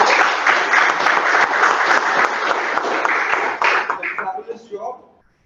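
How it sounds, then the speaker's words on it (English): A room of attendees at a Toastmasters club meeting applauds the speakers and evaluators, with steady, dense clapping for about four seconds that thins into a few scattered claps before dying out. "Let's have a round of applause for all the speakers and evaluators."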